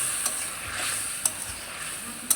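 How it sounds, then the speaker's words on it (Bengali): Eggs cooking in a bubbling curry gravy for egg bhuna, a soft steady sizzle broken by a few sharp clicks of a spoon against the pan, close and fairly quiet, no speech. "এখন আমি ডিমটা দিয়ে দিতেছি। একদম কষা কষা করে রান্না করবো"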